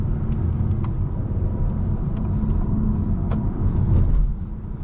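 Steady, loud engine and road rumble from a 2025 Acura TLX A-Spec with SH-AWD and a 10-speed automatic accelerating smoothly, heard continuously from inside the cabin with no talking.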